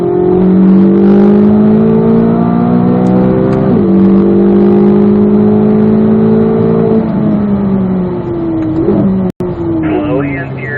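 A Chevrolet Corvette Z06 accelerates out of a corner on the Spring Mountain race track, a loud, close engine note climbing steadily in pitch with brief dips at gear changes, under an instructor's talk.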